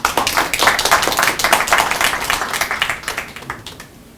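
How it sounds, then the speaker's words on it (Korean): An audience applauds after a professor is introduced at a public forum on happiness in Korea, a brisk, dense round of clapping from a fairly close crowd that stays strong before tapering off at the end. "박수 한번 많이 해주세요"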